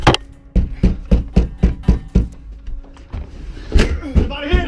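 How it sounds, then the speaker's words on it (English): A man bangs and kicks on apartment doors, a run of loud, heavy thuds at a steady rhythm that pauses briefly before more hits, with voices calling out near the end. "the man continues to bang on doors"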